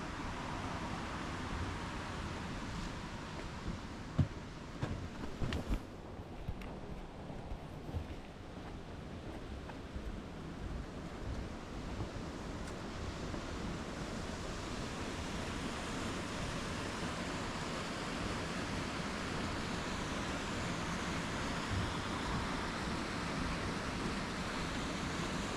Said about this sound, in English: And the sound of that water is incredible.